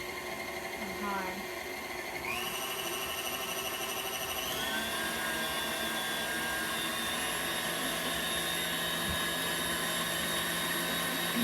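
An electric hand mixer runs steadily on high speed, beating cake batter in a bowl with a continuous whine that rises in pitch as it spins up, loud and close, with no talking over it.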